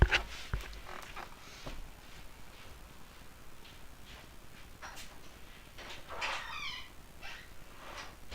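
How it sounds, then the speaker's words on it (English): A cat meows indoors to be let out, a few short faint cries spread out over quiet room tone, with soft thumps and shuffling between them. "Cat wants to go out again."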